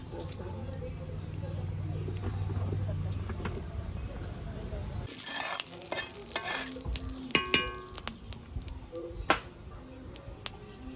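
Cumin and fennel seeds fry in oil in a wok, making a steady sizzle for about five seconds, then sharp crackles and clatters with a voice talking over them.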